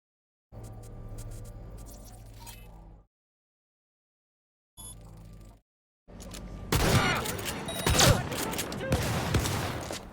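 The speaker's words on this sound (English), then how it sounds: "Under heavy fire!" Heavy gunfire in the video game Cyberpunk 2077 with rapid bursts of shots and explosive crackle after brief silent gaps, dense and loud toward the end.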